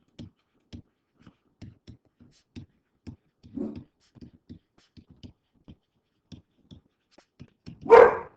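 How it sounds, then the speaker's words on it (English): A dog barks repeatedly from another room, steady short yips spaced about half a second apart, faint and distant, ending in one louder, closer bark. "that's my dog barking"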